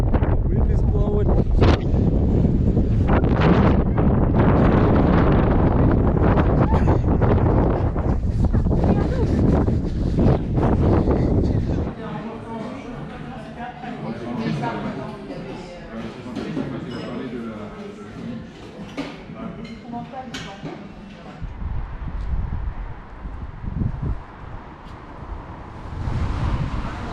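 Gusty outdoor wind in Dublin, Ireland, buffeting the microphone loudly for the first ten seconds, then easing into a softer, fluttering rush with intermittent bursts and a renewed gust near the end.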